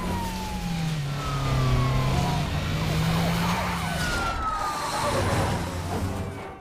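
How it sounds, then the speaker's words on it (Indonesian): Two police cars chase a stolen tandem truck, their sirens wailing loud and steady throughout, with wavering rising and falling tones over rumbling engine and traffic noise. "adegan kejar-kejaran dua mobil polisi memburu sebuah truk gandeng curian"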